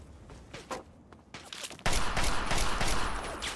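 AK rifle fire in the video game Fallout 3, first a few spaced single shots, then a loud sustained burst of rapid gunfire.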